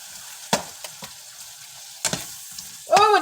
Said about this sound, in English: Let's add some of these onions in here. And give that a stir about.